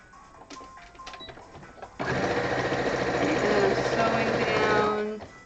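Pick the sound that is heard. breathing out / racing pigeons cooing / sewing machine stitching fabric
sewing machine stitching fabric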